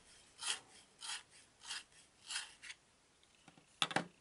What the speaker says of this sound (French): Maintenant, je vais prendre le bleu pan que je vais aiguiser un peu.